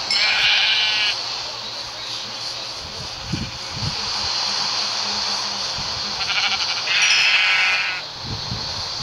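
Minecraft sheep bleat in a video game, a loud wavering bleat at the start and another near the end, with soft game footsteps and clicks in between and no talk.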